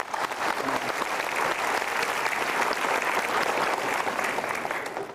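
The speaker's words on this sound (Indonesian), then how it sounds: "Berikan tepuk tangan sekali lagi." A studio audience at a motivational talk show gives a sustained, dense round of applause, even and full from start to finish before tapering slightly at the end.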